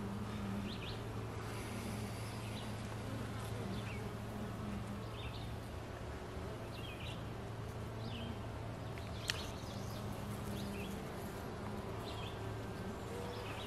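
Honey bees buzz on a hive frame in a colony being checked for swarming, a soft steady drone close by, with individual bees flying past and brief higher whines over a low hum, and no talking.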